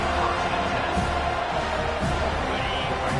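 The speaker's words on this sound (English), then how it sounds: "This crowd, full throat, spreading the eardrums and letting them know it's going to be a long day." A packed college football stadium crowd roars loudly and continuously in a dense wall of cheering, with no letup.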